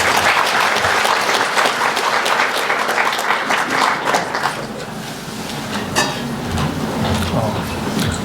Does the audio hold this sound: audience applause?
yes